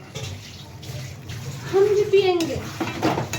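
Water pours into chole bhature dough in a home kitchen, a steady splashing trickle beneath ongoing voices, with occasional clatter nearby.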